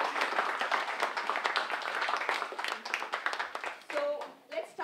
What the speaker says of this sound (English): So big round of applause for Ramya.